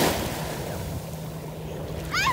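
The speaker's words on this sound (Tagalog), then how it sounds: "Nag-enjoy ka lang talaga dito sa alon. Sa lakas ng alon." Ocean surf at Gold Coast Beach in Hong Kong, a steady wash of waves with wind buffeting the microphone, ending in a brief high-pitched cry.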